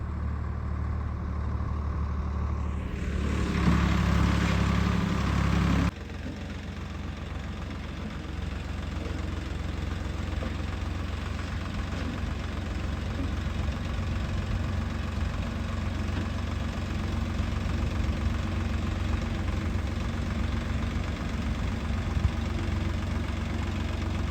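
A tractor engine idles steadily with a low, chugging rumble, briefly revving louder early on before settling into an even drone.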